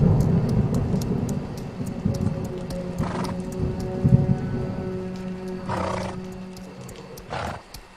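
Horse hooves clip-clop at a steady, regular pace as a sound effect in a Hindi horror story, under a rumbling background bed, with a few brief higher bursts.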